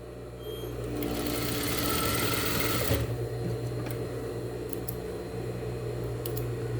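Sewing machine stitching a dish towel with backstitching, a steady whirring motor drone that briefly changes pace about halfway through before running on evenly, close and moderately loud with no speech.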